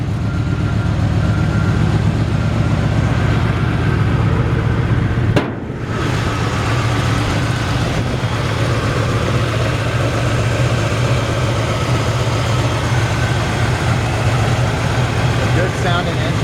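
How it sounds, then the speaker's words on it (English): A 1960 Chevrolet C-10 pickup's engine idles steadily in a cul-de-sac with construction nearby, a constant close low rumble broken by one brief sharp knock partway through. "Good sounding engine. Nice clean running."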